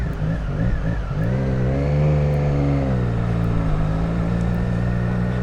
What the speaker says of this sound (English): The stock exhaust definitely doesn't sound like this when you rev it.